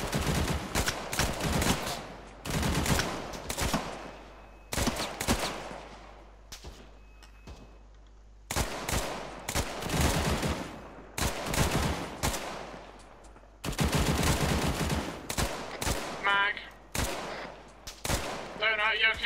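Bursts of gunfire in a military shooter game, Operation: Nemesis, crack out in irregular volleys with short pauses between them, loud and close, and there are faint stretches of quieter background.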